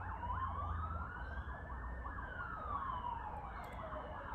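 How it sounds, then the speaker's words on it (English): Emergency vehicle sirens wail along a city street, one loud rising and falling tone sweeping slowly up and down over constant traffic rumble, close and continuous with no talk. "A lot of sirens today."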